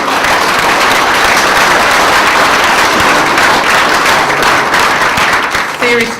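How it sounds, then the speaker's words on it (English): A large keynote audience claps loudly and continuously in sustained applause, with a crowd murmur beneath and a voice speaking briefly near the end. "Can I have a round of applause for my team, because they have been amazing."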